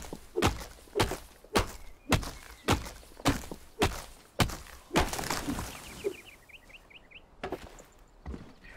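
Repeated wooden chopping thunks from breaking wooden logs in the survival game Enshrouded, about eight sharp, evenly spaced hits close up, followed by a brief pickup chime.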